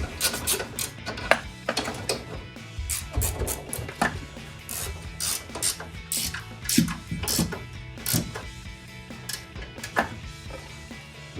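A ratchet fitted with several extensions and U-joints turns a bolt on a 2019-2024 Silverado 1500 during a forged upper control arm install, with rapid close clicking bursts and rubbing metal scrapes repeating unevenly, no talking.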